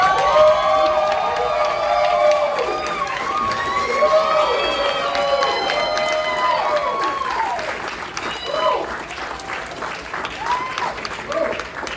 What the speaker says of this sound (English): Round of applause to Mr. Damon Dash